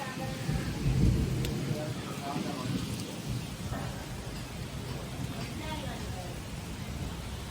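Rain falls heavily while thunder rumbles low, the loudest roll early on and then fading into a constant downpour, with a person talking faintly underneath.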